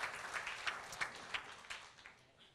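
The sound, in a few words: congregation applauding in church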